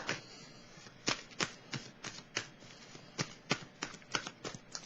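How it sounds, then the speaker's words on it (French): Tarot cards shuffled and handled at a reading, a quiet string of crisp, papery flicks and snaps in irregular bursts, close and alone with no voices. "Je vais piger une dernière carte."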